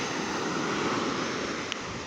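Sea waves wash steadily onto a sandy beach in the morning, making a continuous broad surf roar with wind and no voices.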